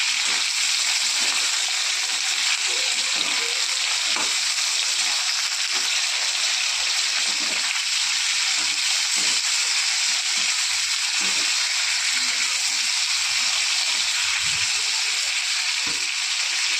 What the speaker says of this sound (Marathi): तळून घेऊत आपण सगळं.